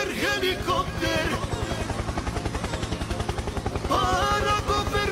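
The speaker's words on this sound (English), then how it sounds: "Helicopter, helicopter." A helicopter's rotor thumps in a fast, steady pulse, loud and close, with music-like tonal sounds layered over it at the start and end.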